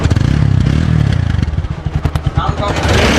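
A used motorcycle idles close by with a steady low engine drone and some mechanical clatter, while people talk over it.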